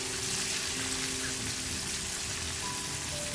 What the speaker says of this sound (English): I'm just going to fry this salted fish until it's cooked.